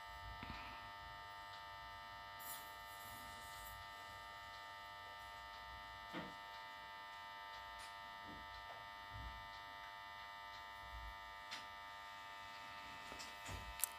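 A sewing machine runs steadily while stitching the back neck of a work blouse, a continuous mechanical hum with faint clicks and small bumps as the fabric is turned, with no talking.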